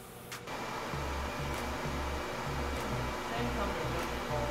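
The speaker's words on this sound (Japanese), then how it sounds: "砥石を回すと" A grinding wheel spins on a balancing machine with a steady mechanical whir and a low, pulsing hum, continuous and close from start to finish.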